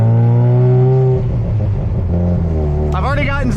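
Mazda FD RX7 rotary car being driven after a long restoration, with a steady low engine drone running throughout and a voice talking over it for most of the clip.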